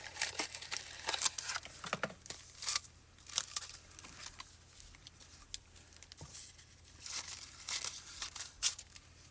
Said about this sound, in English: I'm going to cut a piece of foil.